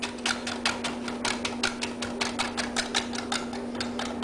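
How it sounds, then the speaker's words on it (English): A Santucco chef's knife slices rolled leaves into a fine chiffonade on a cutting board, giving a quick, steady run of crisp taps, about four or five a second, close and clear over a faint constant hum. "I'll be using my Santucco knife here. And the chiffonade is a very fine, like almost like a julienne cut."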